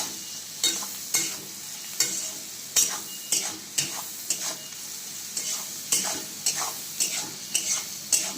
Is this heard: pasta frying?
yes